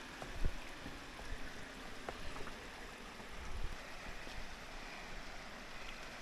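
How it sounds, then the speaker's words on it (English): Water rushes steadily at a waterfall in rocky Australian bush, a broad continuous wash with a few brief knocks and splashes, fairly close and moderately loud throughout. "So we've arrived at the waterfalls."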